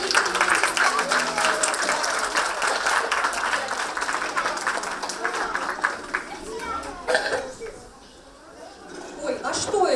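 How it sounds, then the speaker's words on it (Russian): A concert-hall audience at a school variety concert applauds warmly with dense, continuous clapping that gradually thins toward the end, while voices speak over it. "когда вместе с нами зал горячо аплодирует"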